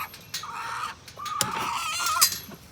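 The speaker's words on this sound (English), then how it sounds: "Always got to be screeching and yelling every time somebody comes around." A homestead chicken screeches and squawks as someone approaches, giving several loud, harsh, drawn-out calls in quick succession, close by over light background noise.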